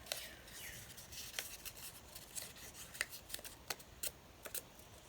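Orange paper being folded back and forth into an accordion fold, giving soft rustling with sharp creasing clicks at irregular intervals, close and fairly quiet over a faint hiss.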